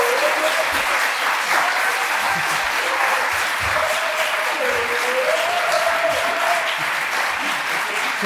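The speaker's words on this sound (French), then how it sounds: "on peut l'applaudir généralement" Warm, sustained applause from an audience at a student congress, many hands clapping evenly throughout, with a faint voice carrying underneath the clapping.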